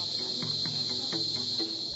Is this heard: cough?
no